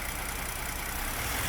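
The engine of a 2021 Ford ST with a rattle runs loud and close in a short, steady burst that swells slightly at the end, with no voices over it.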